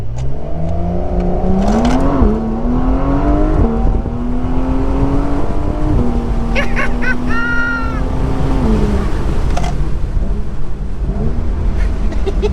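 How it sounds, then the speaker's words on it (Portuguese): Porsche 911 Carrera S Cabrio (992) in Sport Plus mode accelerating hard through several gear changes, the engine note climbing and dropping at each shift, with short hissing bursts like turbo blow-off in between, loud and close. "Você viu esse alívio da turbina?"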